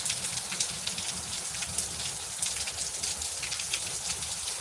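Rain falling in the Chihuahuan desert, a steady broadband patter of drops with a constant hiss and no voices.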